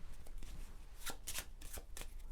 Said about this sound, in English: you can shuffle the cards that are still face down before you turn over the next one.